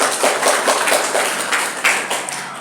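Audience clapping at a campus gathering, a dense, steady patter of many hands, loud and fairly close, with no talk over it.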